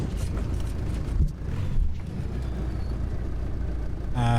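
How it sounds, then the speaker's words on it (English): Inside a truck driving toward a junkyard: a steady, loud low rumble of the vehicle on the road, broken by a few dull bumps and knocks as it jolts along. "I'm hearing a lot of bumping of the truck"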